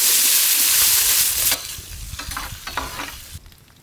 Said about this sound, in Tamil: நறுக்குன்னு வெங்காயத்தை இறக்கணும்க்கா